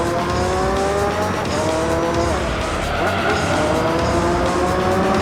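Race cars in Gran Turismo 3 roar at steady high revs with tire squeal and skidding as they scrape a wall and bump other cars, a dense continuous engine drone throughout, with faint talk mixed in.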